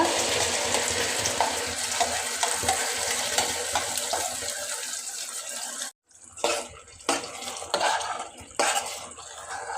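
Raw mango paste stirred in hot oil with mustard seeds, curry leaves and asafoetida for mango thokku, giving a loud continuous sizzle and scraping that breaks off briefly and then resumes in bursts.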